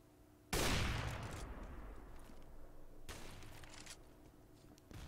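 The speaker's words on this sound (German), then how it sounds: "Da kommen auch viel Pre-Fire-Schüsse." Bursts of gunfire from pre-fire shots in a CS:GO match: a loud volley breaks out, fades into a sustained rattle, then a second burst of shots follows, heard alone without talk.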